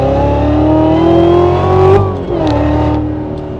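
Corvette C7 Z06 with a modified supercharger lid revving, a loud, close, high-pitched supercharger whine riding over the engine note, rising twice and falling off between revs.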